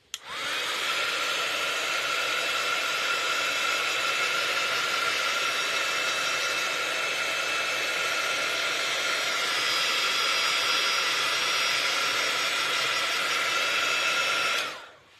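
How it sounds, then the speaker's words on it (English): A hair dryer drying a paint layer on a mixed media card runs steadily and loudly for about fourteen seconds with a high whine, then cuts off abruptly. "Now, I'm going to dry this layer."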